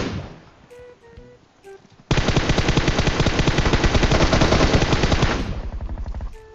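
Sustained automatic gunfire from a PUBG Mobile match on the Erangel map, a dense rapid burst roaring loud and close for about three seconds after brief quieter game sounds, then trailing off.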